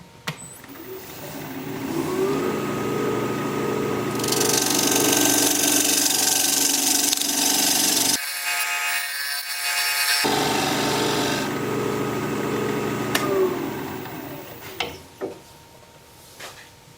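On a woodturning lathe, a gouge flattens the bottom of a spinning wooden bowl in two long scraping passes separated by a short quiet gap, over the lathe's steady motor whine, then winding down with a few knocks.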